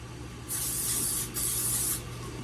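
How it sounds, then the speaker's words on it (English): Cooking spray hisses from an aerosol can onto a baking dish in two steady bursts, the first about a second long with a brief pause before the second, close and clear. "I'm just going to spray it lightly."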